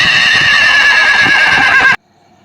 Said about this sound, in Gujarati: અને આપણો ઘોડો કર્યો તૈયાર.